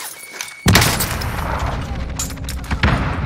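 Gunfire in Call of Duty Warzone: a sudden loud blast opens a dense, roaring stretch of shots with a second sharp burst near the end, sounding close and heavy over a steady game backdrop.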